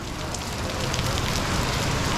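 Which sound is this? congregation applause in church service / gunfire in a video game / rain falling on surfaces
rain falling on surfaces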